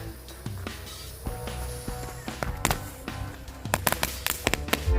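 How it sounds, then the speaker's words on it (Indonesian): Firecrackers of various kinds burst inside a water gallon jug, a scattered series of sharp cracks and pops, some in quick clusters, with a hollow ring in between. "ini dia semua jenis mercon yang bakal kita eksperimenkan ke dalam galon"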